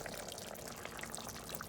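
Fish sauce pouring into a pot of yellow pork curry with coconut milk, a steady soft liquid stream that runs unbroken for the whole short moment, close and fairly quiet with no talking.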